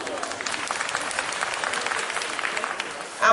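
A large audience in an indoor stadium applauds the chief guest at the inauguration of a Bangladesh Vijay Utsav celebration, a steady dense wash of clapping that continues throughout.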